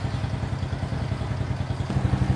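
A motorcycle engine idles steadily with a low, even chugging rumble that holds constant, growing slightly fuller near the end.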